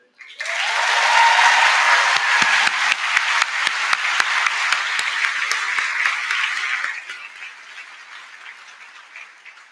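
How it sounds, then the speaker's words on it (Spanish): Loud, dense applause from a graduation audience at a medical school ceremony, starting abruptly and holding strong before easing into a slightly thinner tail of clapping near the end. "No está de más volver a pedir un aplauso por el primer puesto"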